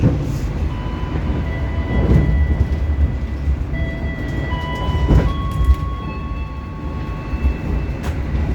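The Argo Bromo Anggrek passenger train arrives at Surabaya Pasar Turi station, heard from inside as a low, steady rumble of the rolling train. Faint high whines drift through, and soft knocks and thumps recur throughout.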